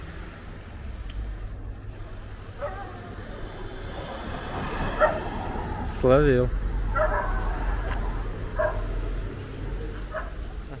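A loose dog barks a few times outdoors on a street in the north-west of Mallorca near cafés, short yelps standing out over steady traffic rumble while someone speaks nearby.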